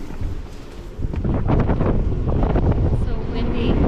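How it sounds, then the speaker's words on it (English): Strong wind buffets the microphone in loud, rough gusts that swell after the first second and keep roaring close and unbroken. "So windy."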